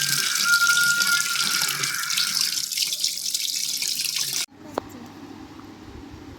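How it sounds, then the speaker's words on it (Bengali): Tap water runs steadily into a sink while goat meat is being washed, loud and close for about four seconds, then cuts off, leaving faint dripping and quiet handling sounds. "মাংসটা ধুয়ে নেব"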